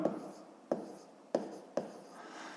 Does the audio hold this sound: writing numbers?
yes